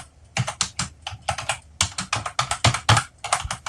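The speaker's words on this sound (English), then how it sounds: "Oh, we could hear your keyboard, Jamie." Rapid typing on a computer keyboard, close and crisp, with irregular bursts of clicking keystrokes separated by short pauses, no voices.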